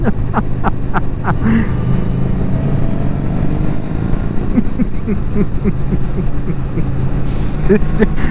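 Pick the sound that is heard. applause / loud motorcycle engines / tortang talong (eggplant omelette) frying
loud motorcycle engines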